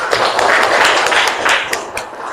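Students in a fifth-grade classroom clap together, a loud, dense burst of hand claps filling the room for a couple of seconds with no voices on top.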